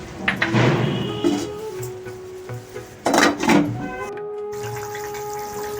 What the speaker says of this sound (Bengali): এবার আলু দিয়ে এর মধ্যে জল দিয়ে আলুটি সেদ্ধ করতে দিয়ে দেব